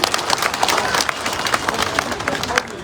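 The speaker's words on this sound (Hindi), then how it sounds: "रीति पाठक जी को इसे तालियां बजाकर आशीर्वाद दे रही थी" Crowd applauding and cheering at an outdoor political election rally in Sidhi, a steady dense wash of clapping that holds loud throughout.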